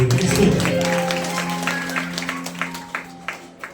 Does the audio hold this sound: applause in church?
yes